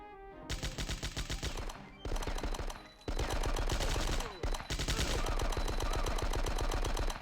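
Machine gun fire in the Die Hard: Nakatomi Plaza video game, long loud automatic bursts of rapid evenly spaced shots, broken by a few short gaps, close and continuous with no voices.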